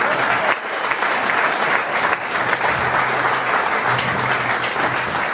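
Wedding guests break into steady, dense applause at a best man's speech, a continuous wash of clapping with faint murmurs of the crowd underneath throughout.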